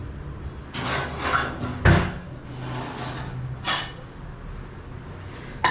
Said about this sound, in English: So you just basically scrape it all out.